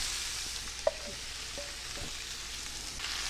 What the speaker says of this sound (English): A little oil, use an olive, just a little bit. Nice hot smoking pan.